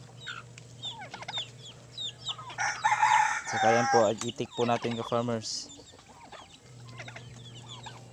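Chickens and turkeys cluck and squawk in a farmyard while feeding on moringa leaves, with a burst of louder fowl calls in the middle, while a person talks over them nearby.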